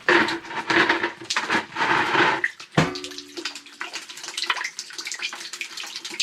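Water gushes and splashes out of freshly cut water heater pipes during a relocation, a steady close-up pour that breaks with a sharp clatter partway through, then trickles and drips more thinly.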